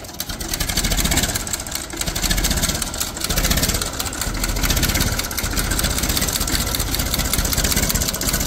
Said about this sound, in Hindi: अरे ट्रैक्टर स्टार्ट हो चुका है